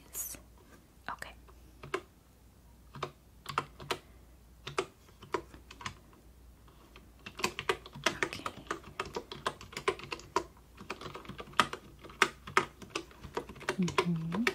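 Crisp computer keyboard typing comes in short bursts and scattered single keystrokes at a customer service check-in desk, fairly close and quiet, with a soft voice speaking intermittently over it.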